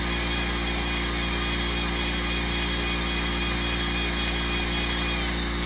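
The pump of a drip-free brush electroplating system runs with a loud, continuous mechanical drone and hum, holding the same level throughout.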